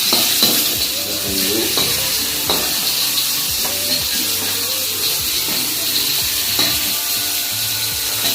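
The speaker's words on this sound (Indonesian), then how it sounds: "kita langsung saja goreng ini ya guys, asinnya." Salted fish fries in a pan of hot oil with a loud, continuous sizzle, broken by occasional stirring scrapes and light clatters close by.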